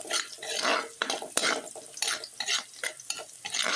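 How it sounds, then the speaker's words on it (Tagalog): Garlic for sinangag fries in a pan while a utensil stirs and scrapes through it, giving bursts of sizzle and clatter in an uneven rhythm, close up. "Papula-pulahin na lang natin ang bawang."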